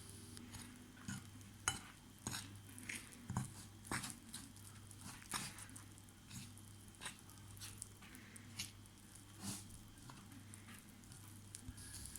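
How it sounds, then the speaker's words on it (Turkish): Pişi batter of yogurt, egg and flour being stirred in a bowl with salt added, a quiet wet squishing and patter that repeats in an irregular rhythm, close and faint with no speech. "1 çay kaşığı kadar da tuz ekleyip karıştırıyoruz"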